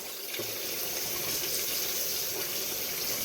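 Water running steadily from a kitchen tap as cauliflower is rinsed in a colander, a constant hissing stream at moderate volume with no voices.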